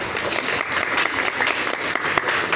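A church congregation applauds for Jesus Christ during a prophetic worship service, a dense, continuous burst of many hands clapping that fills the room briefly.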